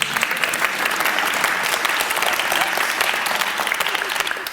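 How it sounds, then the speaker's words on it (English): A conference audience breaks into loud, sustained applause, a dense wash of clapping that holds steady throughout. "That's worth a round of applause, by the way."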